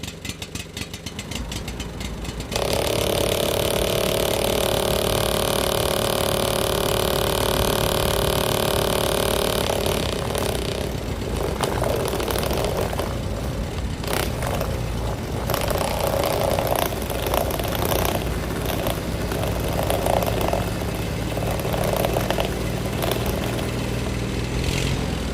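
A borewell drilling lorry's engine runs loud and close, a sustained heavy mechanical drone with rattling and fluctuating load lasting over twenty seconds, no voices heard.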